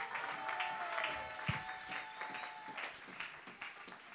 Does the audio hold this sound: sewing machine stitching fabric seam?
no